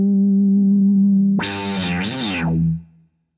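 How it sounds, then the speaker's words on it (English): A Vox VT20+ combo amp with its Filtron synth-type filter effect plays a steady low note. Then a loud struck chord sweeps up and down through a wah-like filter twice and quickly fades out. "You can even dial in synth type effects, as we have a Filtron effect on this amplifier."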